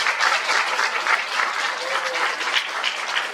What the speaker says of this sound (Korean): 조금남 센터장님, 이미선 센터장님, 고수진 순경님 다시 한번 감사드리며 큰 박수 부탁드리겠습니다.